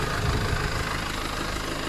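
A well-kept Mercedes 2.2 four-cylinder engine idles steadily at close range, a continuous even rumble with no talk over it.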